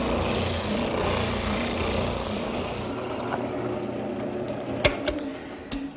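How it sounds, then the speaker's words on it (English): Wooden adjustment bar ends being sanded smooth with a power sander, a steady buzzing drone for about three seconds that then stops, leaving quiet room tone and a few sharp knocks. "Now I'll sand them smooth."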